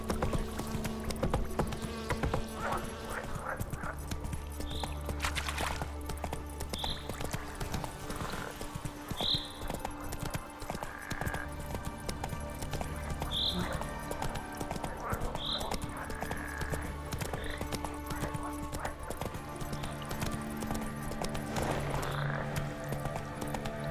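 Horse hooves clip-clopping steadily for The Witcher 3's Roach, a video-game horse, under continuous game ambience with a low drone and faint insect-like buzzing, plus brief distant whinny-like tones.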